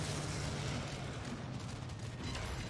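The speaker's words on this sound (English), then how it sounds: "incoming AA fire" Anti-aircraft flak fire bursting around carrier bombers in World of Warships: Legends, a dense, continuous rumble of muffled booms and crackling detonations without talk.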